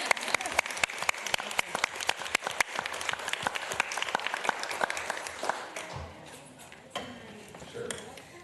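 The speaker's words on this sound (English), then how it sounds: "first of all, we'll clap" Audience at a Ramsey County board meeting claps steadily and fairly loudly for about six seconds, then the applause fades into quiet room noise with a few stray sounds.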